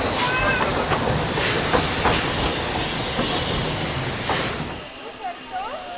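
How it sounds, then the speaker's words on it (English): A narrow gauge steam train runs on its rails, giving a loud, continuous close rumble with clattering wheels and hiss that eases off near the end, with a voice speaking over it. "There's the steam engine right behind me."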